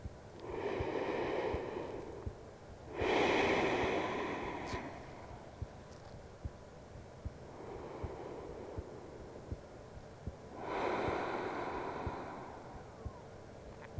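Slow, natural breaths during a trauma-informed yoga session, with about four soft, airy inhale and exhale swells spaced a few seconds apart, close and gentle, with faint ticks in the background.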